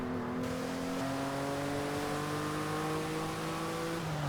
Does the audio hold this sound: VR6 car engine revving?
yes